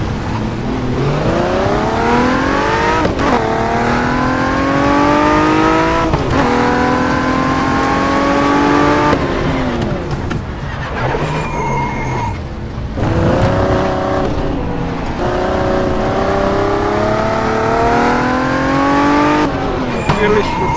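A loud Opel Commodore race car engine in the racing game RACE 07 at the Adria circuit revs and shifts through gears repeatedly, rising and falling in pitch, with brief tire squeals and a steady roar throughout.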